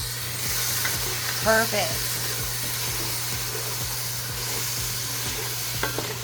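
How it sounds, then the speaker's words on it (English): A utensil scrapes caramelized bits from the bottom of a hot pan while food sizzles and fries steadily close by, with a few short scrapes standing out and a brief spoken word. "I'm scraping all that yummy stuff off the bottom"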